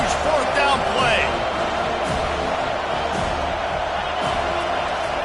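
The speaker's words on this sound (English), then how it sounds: "This crowd bringing serious noise on this" Steady roar of a packed stadium crowd during a college football video game's fourth-down play, a dense continuous wash of noise with faint commentary-like talk mixed underneath.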